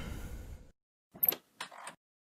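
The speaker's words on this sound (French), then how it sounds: "au début, on peut l'entendre respirer et ouvrir une porte." Home-recorded sound effects: soft breathing for a moment, then after a short silence a door opens with a couple of brief clicks and a creak.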